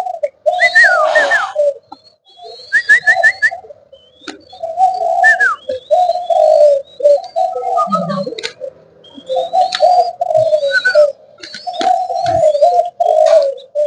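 Spotted doves coo in repeated soft rhythmic phrases up close, interspersed with high whistled bird calls and brief chirps, with occasional faint background voices.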